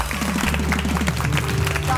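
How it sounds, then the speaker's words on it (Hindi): Studio audience applause during a show: a steady, close patter of many hands clapping, with a low droning voice running underneath throughout. "तालियां, तालियां, तालियां."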